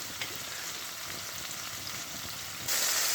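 Egg frying in a pan of spicy masala, a steady close sizzle with a faint clatter near the start and a louder burst of hiss over the final half second.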